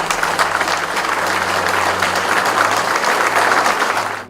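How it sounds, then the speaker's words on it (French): Loud, dense audience applause in a festival hall at the finals of a French carp fishing championship, sustained evenly throughout before cutting off abruptly at the end. "on peut les applaudir très très fort"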